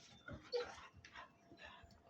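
A restless, heavy young dog whimpers and snuffles in short, faint whines, moving about close by against a quiet background.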